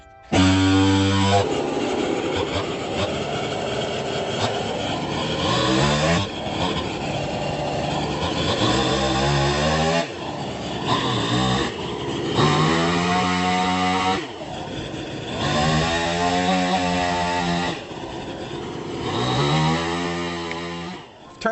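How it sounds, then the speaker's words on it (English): A chainsaw roars while trees are felled during springtime homestead clearing, the loud engine revving and bogging in long sustained bursts with brief dips, close to the microphone and heard without talk. "I'm just gonna grab the chainsaw and see if I can fell these."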